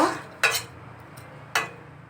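A spoon scrapes and clinks in a cooking pot holding watermelon peel, potato, shrimp and mustard oil, with two sharp metallic knocks about a second apart over a low kitchen hum.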